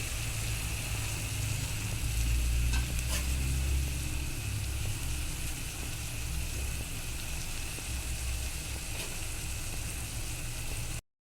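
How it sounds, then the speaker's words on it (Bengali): Greens in a pan sizzle steadily after a little water goes in, a continuous hissing, bubbling wash that stays fairly loud and even for about eleven seconds before cutting off abruptly. "একটু জল দিয়ে দিব, তারপর ঢেকে নেব।"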